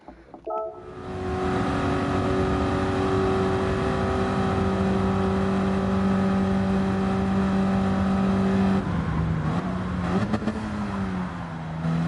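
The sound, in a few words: car engine revving and gear shifts in Gran Turismo 7 video game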